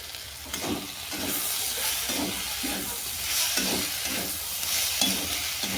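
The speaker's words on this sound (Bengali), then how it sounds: "গরম মশলা চিনটা ভালো করে মিশিয়ে নিলাম" Garam masala and sugar stirred into a vegetarian snake gourd curry frying in a pan, with steady sizzling and rhythmic scraping strokes of the spoon repeating about once a second, close and continuous.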